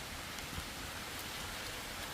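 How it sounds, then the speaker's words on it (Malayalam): Heavy rain pours steadily at home during monsoon weather while biryani is being cooked, a dense continuous broadband hiss of drops on surfaces with no talk over it. "നല്ല മഴ പെയ്യുന്നു"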